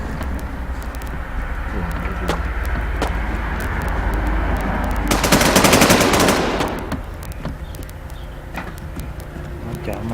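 Automatic gunfire crackles in the survival shooter game Infestation, with a dense burst of rapid shots midway over steady game ambience, while players talk excitedly.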